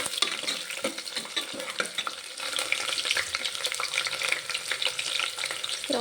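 Onions fry in a pan with four green chillies added, a steady close sizzle broken by scraping stirs, moderately loud and with no talking.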